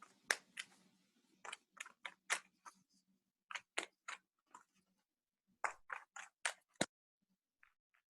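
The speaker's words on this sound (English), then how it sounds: "I'm having a hard time shuffling for Joe" Tarot cards being shuffled give quiet, crisp riffling bursts in irregular clusters with short pauses between them, close and faint.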